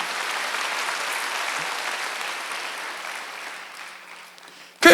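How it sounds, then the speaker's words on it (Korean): Church congregation applauding, a sustained crowd of clapping that slowly fades toward the end before a sudden loud burst cuts in. "박수 하세요."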